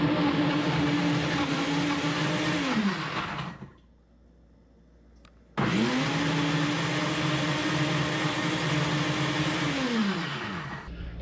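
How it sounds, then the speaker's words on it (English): An Instant Pot blender on its smoothie cycle whirs loudly, with the motor pitch ramping up twice, then cutting out for a short pause before it resumes at full roar. "I imagine any blender will work just fine, but I'm just gonna hit smoothie on this"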